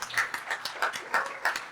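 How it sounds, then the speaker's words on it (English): Scattered applause from an audience at an aerospace society awards ceremony honouring John Pinder, a modest run of separate claps rather than a full ovation, fairly quiet and distant. "I think he also needs a round of applause"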